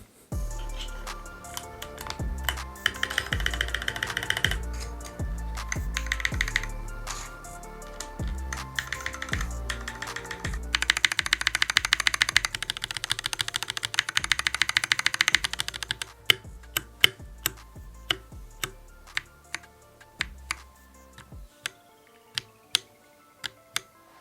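Steady typing on a mechanical keyboard fitted with Glorious Holy Panda switches, close and crisp with a deep thocky clack, rapid runs of keystrokes thinning to sparse single presses near the end.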